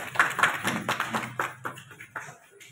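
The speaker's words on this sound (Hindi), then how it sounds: "तालियां तो बजा देगा।" Scattered hand clapping from an audience at a women's day celebration, a run of uneven, moderately loud claps that thins out toward the end, with faint background voices.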